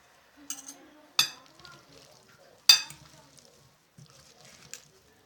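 Salad tossed with olive oil and grainy mustard powder for a summer kolkhoz-style vegetable salad: a few scattered clinks and scrapes of utensils against a bowl, separated by quiet gaps and soft rustling.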